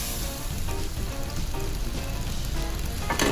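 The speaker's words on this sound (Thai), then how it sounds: "ผัดให้ใบโหระพาพอสุกนะคะ" White clams stir-fried with Thai basil in a pan, a dense, loud, steady sizzle like heavy rain with faint stirring, close and unbroken.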